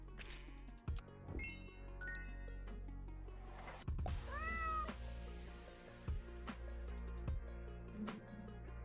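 Cartoon cat meows from the video game Super Auto Pets, short distinct calls amid game chimes, clinks and blips, fairly quiet with no talking.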